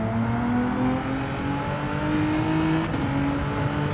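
Engine of a Hyundai Genesis race car in Gran Turismo 7 holding a steady, droning rev with layered harmonic tones, loud and continuous throughout, rising slightly in pitch.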